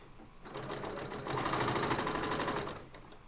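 A sewing machine stitches fabric for a cross body bag, a steady close mechanical whir that starts after a brief pause and runs continuously, growing a little louder midway before tapering off.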